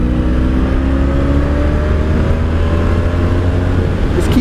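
Steady, loud engine drone of a 1984 Honda V65 Sabre 1100 VF1100S motorcycle while riding, holding an even pitch with slight rising tones and continuous wind rush.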